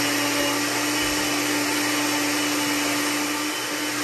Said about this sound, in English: Now we're gonna cover the blender and we're gonna blend it very well until everything is dissolved.